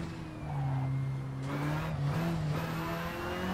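A flame-breathing Ford Mustang Foxbody's engine drones steadily from the cockpit view of a driving game on the Pacific Coast Highway, holding a loud, smooth tone with slight pitch shifts and no talk.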